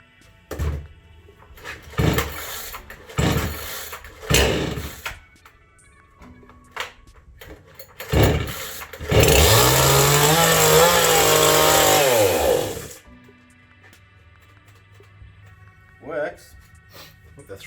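An MTM 62SX chainsaw bought cheaply on eBay is pulled over several times in short bursts, then fires and revs loudly for a few seconds before cutting out, with a brief later blip; pull-start thunks and rattles come between.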